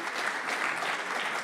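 Dense, steady clapping from an audience honoring a World Championship silver medallist. It fills the whole moment evenly, loud and close, with no voices over it.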